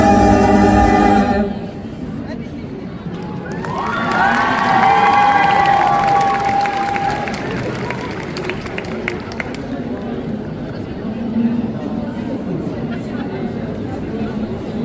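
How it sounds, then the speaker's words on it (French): An audience at a cosplay parade during a festival in Tours cheers and claps after music cuts off, a crowd roar with shouts and scattered applause rising and then settling into chatter, with a voice speaking over it. "On peut l'applaudir encore une fois"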